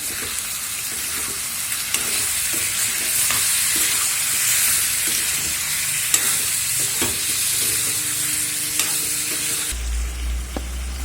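Turmeric-marinated food sizzles steadily in a hot pan while being stirred, with a loud continuous frying hiss and occasional scraping clicks of the spoon.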